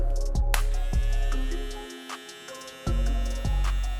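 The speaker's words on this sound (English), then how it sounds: "So let's go ahead and turn this clipper on, see what it sounds like." A Suprent Pro Mecha hair clipper with a brushless rotary motor runs with a steady tonal hum, close and moderate in level, broken by a few sharp clicks and a brief dip in the middle.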